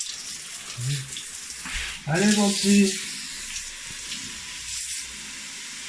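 Water hose rinsing dirt out of a Zehnder 350 ventilation heat exchanger, a steady rushing spray that swells louder partway through, with someone speaking briefly over it.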